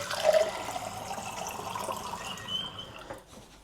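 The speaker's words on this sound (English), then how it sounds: "I'll fill up my water." Tap water running into a container while making pizza dough after the yeast goes in: a steady, close rush of flowing water that thins and stops after a few seconds, with no talking.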